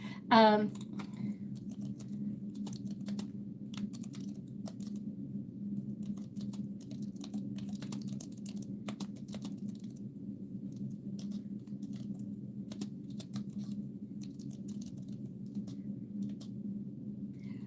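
Rapid, irregular clicking of keys on a computer keyboard, continuing throughout over a steady low hum.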